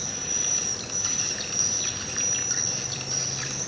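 Recorded swiftlet calls play as a high, repeated chirping with a thin whistle-like tone, over a steady insect-like buzz and a low hum, moderately loud and without speech.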